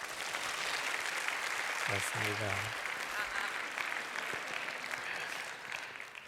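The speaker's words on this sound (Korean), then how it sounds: "목사님 나오실 때 큰 박수로 맞이해 주시기 바랍니다" A church congregation at a worship service applauds steadily as the pastor is welcomed to the stage, a dense wash of clapping throughout, with a brief spoken affirmation over it.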